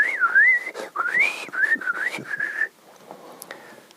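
A person whistles in imitation of workmen's sarcastic whistling, a close, loud run of sliding, warbling notes lasting a few seconds and then stopping, leaving faint room noise.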